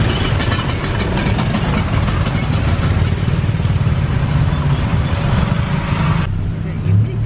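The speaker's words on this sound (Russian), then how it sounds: "мы запрыгнули в тук-тук после вот этого Old Sam Square." A tuk-tuk rattles through Bangkok traffic, its small engine a loud, close, buzzing putter with constant road noise, and voices talk over it throughout.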